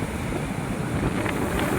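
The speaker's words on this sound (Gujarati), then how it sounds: "દરિયો હે ને અહીંયા" Sea waves wash against the shore at Dwarka, a steady broadband roar of surf with wind mixed in, continuous and moderately loud with no speech.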